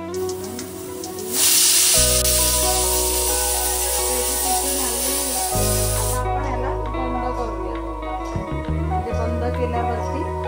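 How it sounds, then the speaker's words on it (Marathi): Pressure cooker whistling while cooking mutton liver, a loud sustained hiss of escaping steam that starts abruptly and holds for several seconds before fading into lower rumbling, with background music and a voice talking beneath. "हे कलेजा पेट्याला आपण आता कुकर 2 शिट्या देऊया"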